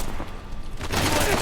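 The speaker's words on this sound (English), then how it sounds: "at least I figured out which button throws the grenade" Gunfire and a grenade blast in the video game Uncharted: The Lost Legacy, a rough crackling burst that swells into a louder, denser roar of shots and explosion in the second half, loud and close.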